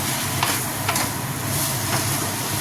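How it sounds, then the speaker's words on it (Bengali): Taro leaves frying with a little sugar in a pan over medium heat, a continuous close sizzle broken by several short scraping stirs, with no voices. "পাতাগুলো প্রায় ভাজা ভাজা হয়ে গেছে"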